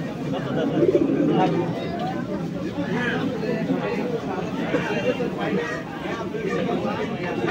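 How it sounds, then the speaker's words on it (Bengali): Pigeons coo and flutter amid crowd chatter at a small open-air pigeon market in Singair, a steady busy babble with bird calls mixed throughout. "প্রিয় দর্শক, আজকে কবুতর হাটে চলে আসছি ঘোরার জন্য।"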